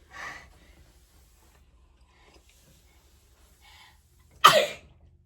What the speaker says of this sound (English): I don't sneeze like I normally do.